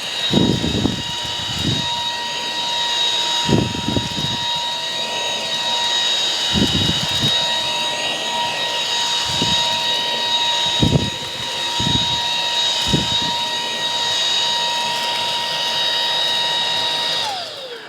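Jashen V16 cordless vacuum cleaner running on its medium setting with a floor tool, a steady high motor whine holding throughout, broken by short bursts of brushing and scraping as it passes over the floor, then spinning down at the end.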